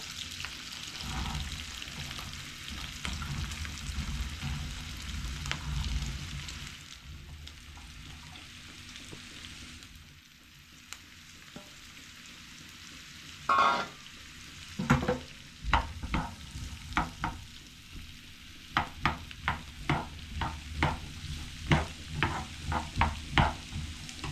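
Curry leaves frying in hot oil for a vegetable thoran, a steady sizzle that quiets midway and then turns into a string of sharp spattering crackles and stirring clicks, no talking.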